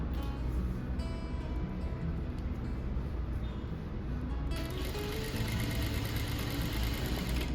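A sewing machine stitches fabric and spring boning for millinery with a steady, continuous motor whir and needle clatter, even and fairly loud, growing slightly brighter midway.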